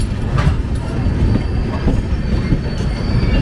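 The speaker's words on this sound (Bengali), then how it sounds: "এখানে আমাদের ট্রেন 10 মিনিট বিফোর টাইমে এসেছে, তাই এখনও অবধি আমাদের ট্রেন দাঁড়িয়ে আছে।" The Howrah-Dehradun Kumbha Express rumbles close by at a station, with loud continuous wheel noise, rhythmic rail clatter and a few brief squeals.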